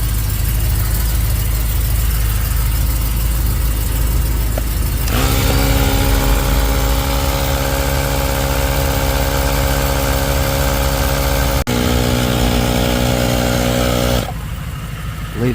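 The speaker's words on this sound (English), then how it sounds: "Cold starts don't get any quieter" A VW Beetle convertible's engine starting from cold and idling loudly and roughly close by, with a steady mechanical drone that shifts pitch partway through before cutting out near the end.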